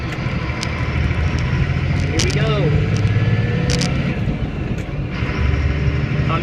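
A split-rear truck engine hums under a driver's speech as it downshifts without the clutch coming out of a turn, with a brief rise and fall in engine pitch partway through.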